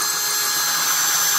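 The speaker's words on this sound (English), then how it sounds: "I'm gonna drill this hole." A power drill boring a hole to mount a closet rod, a loud, continuous high-pitched whine that holds steady up close for the whole moment, with no talk.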